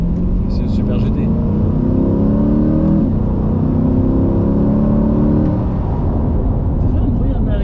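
A Corvette C8 V8 revs up, its low engine drone rising and holding steady over several seconds before easing off, loud and close, with faint background voices.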